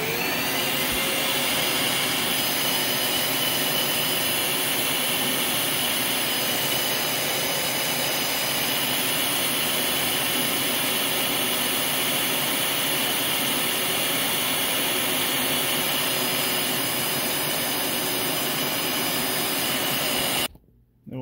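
A Dyson DC17 vacuum cleaner running during an airflow test, a loud, continuous whooshing motor roar that holds steady for about twenty seconds, then cuts off abruptly.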